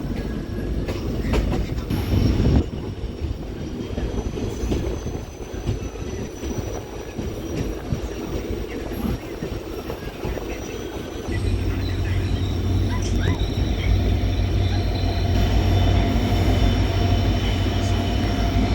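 A passenger train rumbles steadily past at close range near Sathirakudi railway station in Tamil Nadu, India, wheels clattering over rail joints with occasional metallic squeals, the roar swelling louder toward the end.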